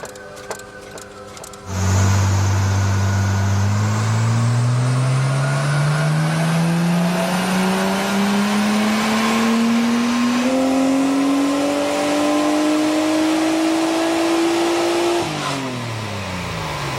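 A tuned Nissan Skyline R34 on a dyno, boost set to 1.1 bar, idles briefly before one loud, sustained rev climbs steadily in pitch for about thirteen seconds, then drops away.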